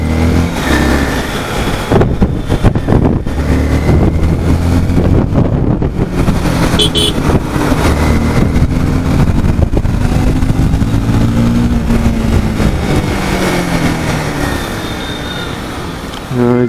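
Heavy road traffic on a busy city road, a loud continuous rumble of engines with rising and falling drones from passing vehicles, maintained throughout with music faint underneath.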